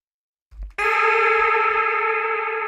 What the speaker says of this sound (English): And add a reverb,